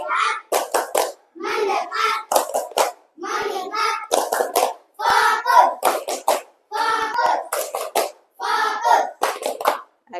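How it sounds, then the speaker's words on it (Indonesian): A classroom group stands for the 'tepuk fokus' clapping ice breaker, chanting together in rhythmic bursts with claps mixed into the voices, loud and close, with short pauses between phrases. "Tepuk fokus."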